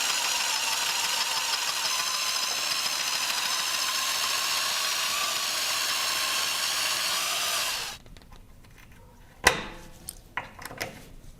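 A drill boring out a stubborn rivet on a Victory Magnum motorcycle: a steady, loud high-pitched whine for about eight seconds that stops abruptly, followed by a few sharp metallic clinks.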